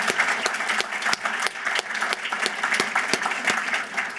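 Steady applause from a lecture-series audience, dense even clapping with sharp individual claps standing out, continuing unbroken throughout with no talk.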